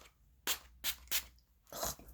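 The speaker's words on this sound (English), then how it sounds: "I'm going to spray. Using my e.l.f." An e.l.f. setting spray is pumped onto a face in four quick misting bursts, the last one longer, soft and close in a quiet room.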